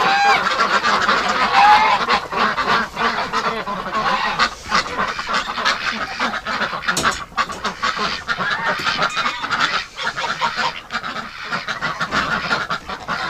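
A dense chorus of wintering ducks and geese honks and quacks continuously and loudly, many birds calling over one another in an enclosed barn.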